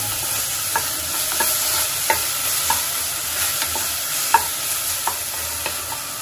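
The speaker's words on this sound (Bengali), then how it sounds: "এটাকে আমি ভালো করে নেড়ে ছেড়ে নেবো" Spices and garlic paste sizzle steadily in a hot pan while a spoon stirs with soft periodic scrapes and taps, close up, with no voices.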